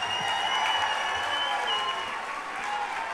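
Live concert crowd in a nightclub applauds, a dense, continuous wash of clapping and cheering heard from the room, fairly soft and even throughout.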